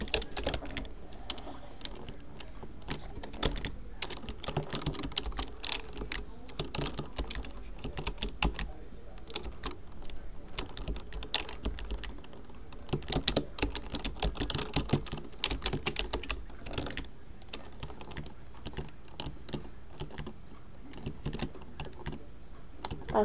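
Steady, rapid typing on a computer keyboard continues throughout, with dense clicking keystrokes close to the microphone and only occasional faint voice in the background.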